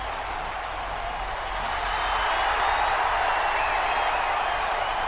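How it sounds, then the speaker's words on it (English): In the WWE 2K19 wrestling video game, an arena crowd roars as entrance music starts, a dense, steady wash of cheering that swells slightly louder partway through. "what a crowd pop that was when this music started"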